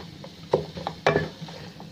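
A spoon stirs carrot halwa with khoya as it roasts in a pan, making close scraping strokes with two sharper knocks over a faint sizzle.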